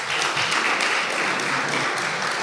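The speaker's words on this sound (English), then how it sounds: "that also needs a round of applause" A school audience applauds a netball title win, producing a steady, even wash of many hands clapping at moderate volume with no individual claps standing out and no talking over it.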